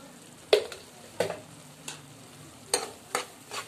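Masala of garam masala, coriander powder and salt frying in a pan, stirred in a steady rhythm with about six sharp scraping strokes over a low, continuous sizzle, close and alone.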